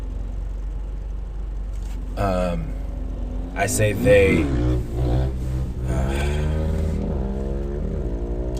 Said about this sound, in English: always some cool guy with their loud motorcycle or car